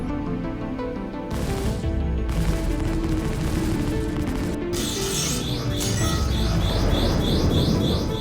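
Ship turret gunfire rattles in rapid bursts in the space game Star Citizen, loud and continuous automatic fire from a Constellation crew's guns with sharp repeating shots layered over a dense battle soundscape.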